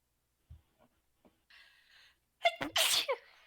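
A single sharp sneeze bursts out near the end after a quiet stretch of small taps and a brief hum, with no talk.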